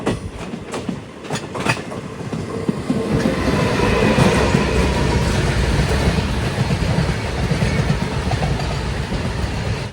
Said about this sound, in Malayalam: ട്രെയിൻ ഇപ്പോൾ കടൂർ ജംഗ്ഷനിലെത്തി